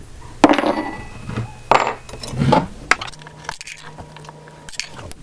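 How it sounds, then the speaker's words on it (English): Mini bolt cutters snip through metal flatware, giving several sharp, close metallic cracks and clinks at irregular intervals with a faint background hum between cuts. "I grab my mini bolt cutters and I'm going to cut them all on that line."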